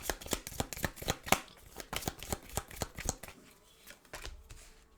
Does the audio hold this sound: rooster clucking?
no